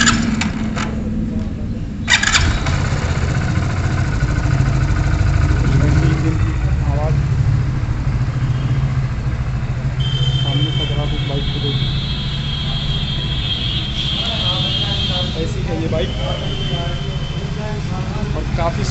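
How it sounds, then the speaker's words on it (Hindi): A Hero Splendor Plus BS6 fuel-injected motorcycle engine idles steadily close by, a low continuous hum running throughout while someone talks over it. "इंजन की आवाज़ मैं आपको सुना देता हूँ।"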